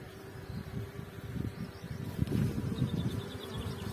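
Honeybees at a calm beehive, during the moving of bee colonies between apiaries, buzz in a low, continuous hum, close but fairly quiet, with faint rustling.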